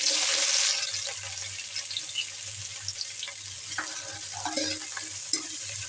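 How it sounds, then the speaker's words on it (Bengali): Chopped onions frying in white oil in a kadai: a bright burst of sizzle at first, then softer frying with scattered clinks and scrapes of stirring, close by and without speech. "পেঁয়াজ কুচিটাকে লাল লাল করে ভেজে নেব।"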